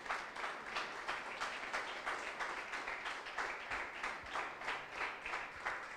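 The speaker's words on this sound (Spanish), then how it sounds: "Denle ese aplauso al Señor." A church congregation claps in a steady rhythmic beat, quiet and somewhat distant, repeating evenly from start to finish.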